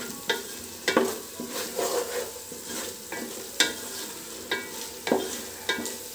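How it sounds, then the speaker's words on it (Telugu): Masala paste for chicken donne biryani frying and being stirred in a pan over medium heat, with a steady soft sizzle and repeated scraping clacks of the spoon at an irregular rhythm, close and alone. "ఇప్పుడు ఇదంతా బాగా వేపుకోవాలి"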